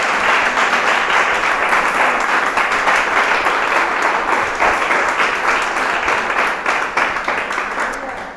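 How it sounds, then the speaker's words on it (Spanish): A church congregation bursts into sustained applause during a sermon, many hands clapping in a thick, continuous wash that holds steady for about eight seconds before tapering off. "Tú le das un aplauso al Señor"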